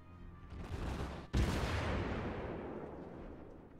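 Naval guns aboard a warship fire armor-piercing shells in World of Warships, a loud booming salvo with a sharp second blast around mid-clip, followed by a long rolling rumble that slowly fades, with no talking.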